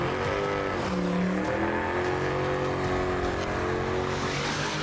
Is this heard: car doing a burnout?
yes